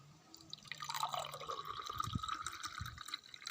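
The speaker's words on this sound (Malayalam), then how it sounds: "ഇനി അതിനകത്തേക്ക് നമുക്ക് നമ്മുടെ മുന്തിരി ജ്യൂസ് ഒഴിച്ചു കൊടുക്കാം" Grape juice poured into a glass already holding honey, a steady close liquid splash and trickle running alone for a few seconds.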